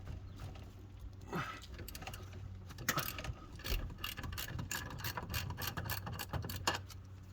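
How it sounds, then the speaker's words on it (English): A ratchet wrench clicks rapidly and steadily while loosening a bolt on the brake booster stud of a Ford F150, with close metallic ratcheting bursts over a low background hum and no talking. "Now let's loosen one of the bolts on the brake booster stud and get that tube out of the way"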